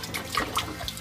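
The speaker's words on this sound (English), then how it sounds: "Run some water." Fresh rinse water runs from a sink tap, a steady splashing gush for about a second, fairly faint and heard alone.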